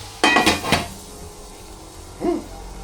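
A lid set on a pot of soup, a sharp cluster of metallic clatters followed by a single softer clank a moment later, close by against a quiet background.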